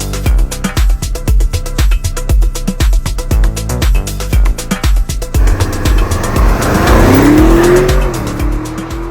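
A 2021 Audi SQ8 with a 4-litre turbo petrol engine, heard up close and loud: rapid rhythmic engine pulses give way to a rising rev and a drawn-out tyre squeal, with no voices.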